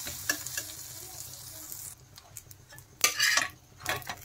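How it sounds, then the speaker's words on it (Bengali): A kulcha flatbread fries in butter on a pan, with a soft, uneven sizzle punctuated by spatula scrapes and flipping clatters that swell in short bursts. "এখন উল্টে পাল্টে আমি ভালো করে ভেজে নেব এটাকে।"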